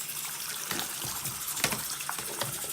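Water runs and splashes steadily over a laptop during washing, a continuous close gush with small irregular spatters.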